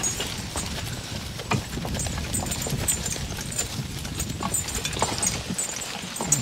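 Draft horses walking, their hooves clip-clopping in a steady, fairly close rhythm over continuous outdoor background noise, with no talking.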